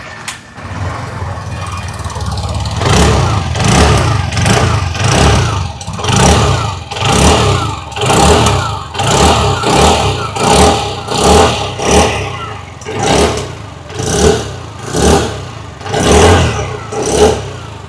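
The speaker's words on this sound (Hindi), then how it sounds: "आइए अभी सुन लेते हैं इस स्कूटर की एग्जॉस्ट नोट।" A 2025 TVS Jupiter 125 Disc scooter's exhaust note, heard up close, settles from idle into a series of repeated short throttle blips, each rev rising and falling in a steady rhythm.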